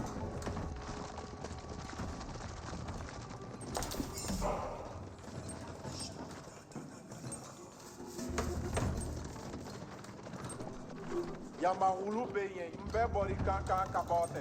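Cavalry hooves clatter in a rapid, continuous galloping rhythm in Age of Empires 4 beneath steady talking, mixed with game clashes and effects that rise toward the end.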